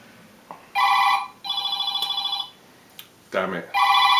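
An old-style telephone bell rings in repeated bursts at home, loud and close, with short gaps between rings and a brief sound in between.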